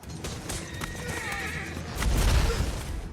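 A horse whinnies in a film scene, its neigh rising over clip-clopping hooves, followed by a heavy rumbling impact as the horse stumbles and the rider somersaults off, all loud and close.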